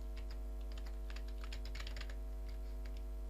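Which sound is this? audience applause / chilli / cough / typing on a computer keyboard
typing on a computer keyboard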